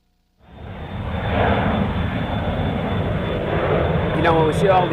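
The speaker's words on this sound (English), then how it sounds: "when we see all these jet planes flying overhead" Jet planes flying overhead make a loud, steady, broad roar that starts abruptly and holds without a break for several seconds.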